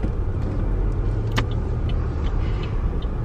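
A car drives along with a steady low engine and road rumble, loud and close throughout, with a sharp brief click partway through.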